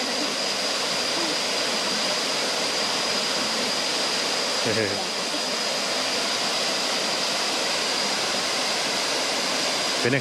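A constant heavy roar of water pours down at Saeng Chan waterfall, Ubon Ratchathani, during the rainy season, loud and uniform, with a brief muffled knock partway through.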